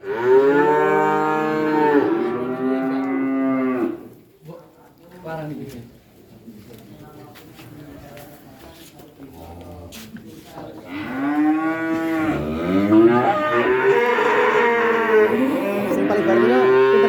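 Calves at a cattle trader's yard moo loudly and close by in long drawn-out calls, with a quieter gap in the middle, while people talk nearby.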